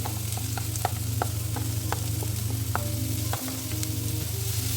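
Mushrooms sautéing in a pan with shallots and grated coconut, a loud, continuous close sizzle with light spoon taps and stirring scrapes running through it, no voices.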